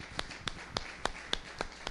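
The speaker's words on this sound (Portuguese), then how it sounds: "Uma salva de palmas ao Senhor mais uma vez," Rhythmic clapping during a church service: evenly spaced, sharp claps at about three or four per second, fairly faint.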